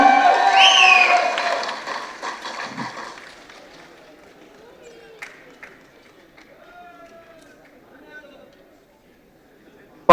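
Applause and cheering from the crowd at a film audio launch event as a guest is welcomed on stage, loud for the first couple of seconds and then fading to near quiet with a few scattered sounds.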